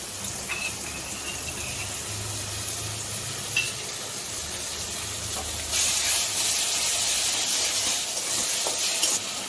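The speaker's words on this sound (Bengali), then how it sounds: "মশলাটা ভাজা ভাজা হয়ে গেছে," Ginger paste frying with ground spices in a pan during a Bengali cooking competition, a steady close hiss and sizzle throughout that grows brighter and louder partway through, with no talking.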